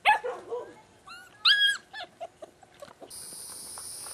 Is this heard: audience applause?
no